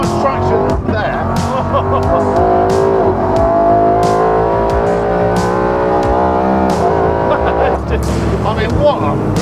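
A BMW V8-powered Mini drives hard in pouring rain, its loud engine roaring continuously throughout with rising and falling revs, and brief bursts of spray or splashing noise heard over it.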